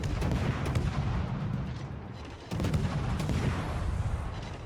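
Naval gunfire from warships in World of Warships, a naval combat game, with repeated booming salvos over a constant rumbling battle bed, a short lull midway and then more heavy shots, loud and without voices.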